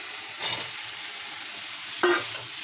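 Potatoes and pointed gourd frying in spiced oil, with a steady soft sizzle and two brief louder bursts of stirring as the vegetables are moved around the pan.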